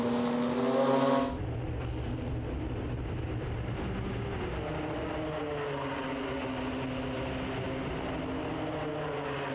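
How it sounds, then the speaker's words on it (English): BMW M2 CS race cars slipstreaming nose to tail down the pit straight at the Red Bull Ring during a one-make race. A brief high whine at the start gives way to a loud, steady engine drone that holds throughout, with no talk. "Slipstreaming down the pit straight, flashing the headlights, trying to use every trick in the book to unnerve the rival."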